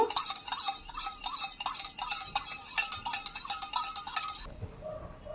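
A spoon stirs water and vinegar in a small bowl with quick, rhythmic clinks and scrapes, fairly faint and close, stopping abruptly near the end.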